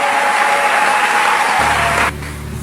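Church congregation applauding together, a dense, loud wash of clapping that fills the space, then cuts off abruptly near the end and gives way to a low hum.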